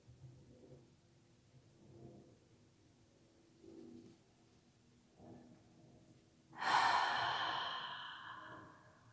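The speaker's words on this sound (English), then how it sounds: "Inhale, breathe it all in. Exhale, let it go." Slow, soft breaths drawn in and let out during a gentle yoga practice, several quiet inhale-exhale cycles spaced a couple of seconds apart, ending in one louder, longer airy exhale close to the listener.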